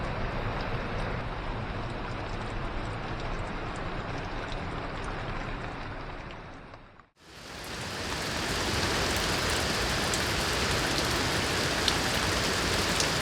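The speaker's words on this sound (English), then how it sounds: "The rain's quite loud" Heavy rain from Hurricane Dorian pours down outside a cave, a dense, constant hiss and roar that drops out briefly midway, then resumes at full strength.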